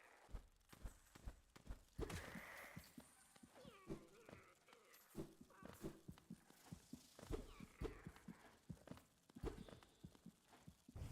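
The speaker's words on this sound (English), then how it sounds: "Hearing that kind of heartbeat sound, what is that?" Soft, rhythmic heartbeat thumps from the Hollow Knight video game repeat steadily through the clip, mixed with other game sounds and a voice at times.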